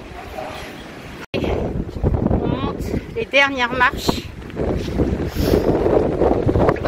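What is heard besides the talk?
strong wind blowing at hilltop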